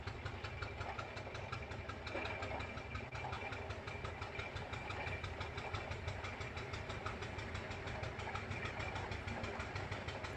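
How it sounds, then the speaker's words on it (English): A Fowler T3 roller climbs a hill in high gear, its engine giving a steady, close, continuous chugging drone with a faint knocking pulse throughout, and no voices. "a Fowler T3 roller going up a hill"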